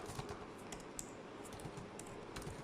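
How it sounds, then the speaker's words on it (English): Quiet, close typing on a computer keyboard, a steady run of soft clicks and key taps with no talking. "I'm going to type out here convert"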